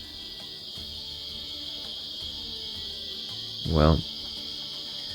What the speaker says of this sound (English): the cicadas are...